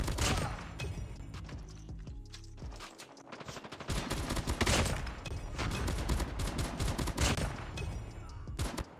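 The S36 gun in Call of Duty Mobile fires in rapid loud bursts separated by short pauses, with a brief quiet gap near the start and no talk over it.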